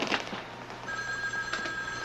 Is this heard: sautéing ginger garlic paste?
no